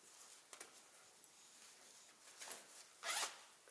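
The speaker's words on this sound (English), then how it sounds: "and zip like that" A zipper on the back pocket of a tactical load-bearing vest is drawn in a few short pulls, then a final louder, longer zip, in a quiet room with no talking.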